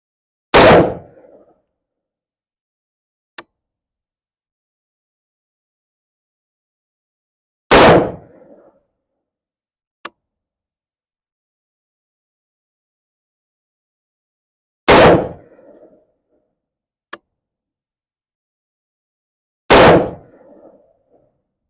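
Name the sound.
Daniel Defense V7 rifle firing five rounds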